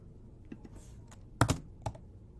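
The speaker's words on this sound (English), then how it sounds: "on your keyboard, you're going to hit a bunch of numbers" Fingers tap out numbers on a computer keyboard in a short, close burst of clicks, a few light taps and then a louder cluster of keystrokes.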